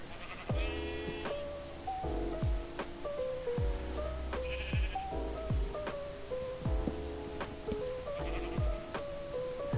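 Sheep in the Minecraft video game bleat again and again, several overlapping calls in a loose rhythm, with soft thumping beneath and no voices.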